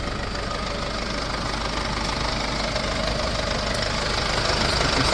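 A 2019 Mercedes-Benz Sprinter refrigerator van's engine idling, a close, steady, even mechanical hum with a light knocking texture that continues unchanged throughout.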